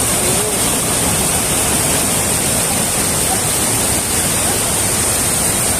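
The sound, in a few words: strong river current at Talon Pari Falls waterfall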